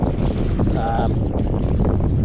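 Strong wind buffets the microphone on open water during a morning of kayak fishing for bull red drum, a steady loud rush with faint voices briefly underneath.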